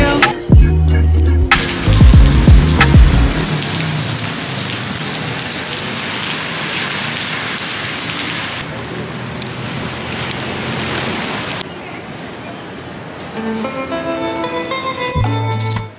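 Rain falling in Manila, a loud steady hiss of drops on surfaces that runs for most of the stretch, with brief musical or other sounds at the start and end.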